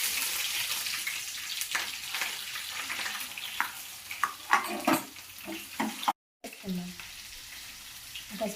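Onion goes into hot oil for a fish curry with tamarind leaves, giving a moderate frying hiss with stirring clicks and a running-water-like wash, broken by a brief cut near the end.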